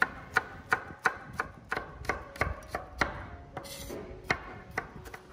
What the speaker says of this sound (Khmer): យើងត្រូវយកខ្ទឹមក្រហមនឹងមកហាន់ជាចំណិតស្ដើង